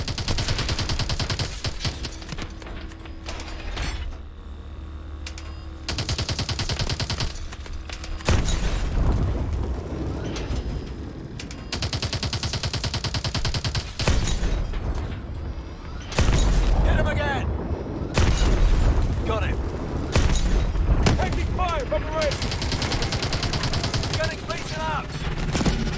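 Heavy gunfire and explosions from the video game Call of Duty: Advanced Warfare, with dense bursts of automatic fire and booms running almost without pause. A voice talks over the combat.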